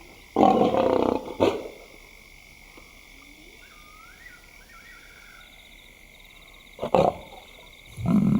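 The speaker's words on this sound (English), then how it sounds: "The big lioness begins the trek back for her cubs, but the youngsters have heard her call" An African lioness calling to her cubs gives short, deep, loud grunting roars, a close pair at the start and two more near the end, with quiet bird chirps and a low background hum between them.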